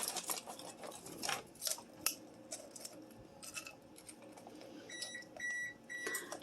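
An oven beeps several times in a short run near the end of the clip, signalling it has preheated, after quiet kitchen clatter and scraping.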